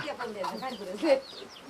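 A hen clucking nearby, a run of short throaty clucks with a slightly louder one toward the end.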